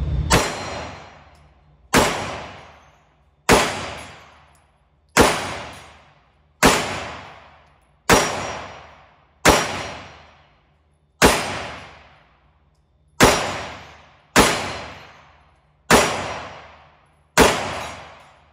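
A Springfield Armory Hellcat Micro 9 pistol fires at a steel target fifteen yards away, giving about a dozen sharp, loud, evenly spaced shots, each followed by a short decaying ring, with no talking.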